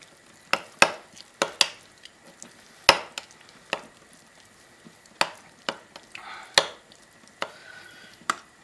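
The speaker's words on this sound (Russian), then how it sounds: "И тщательно перемешиваем." A spoon stirs parsnip into sour cream for a sour sauce, giving a series of separate sharp clicks and scrapes against the bowl, fairly close and moderately loud, spaced irregularly with no talking.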